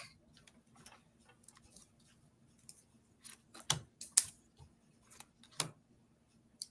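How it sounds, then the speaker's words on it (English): A deck of playing cards is cut and handled at a table, producing close, faint clicks and snappy card flicks in an irregular series, with a few sharper slaps toward the middle and end. "So let me cut my deck."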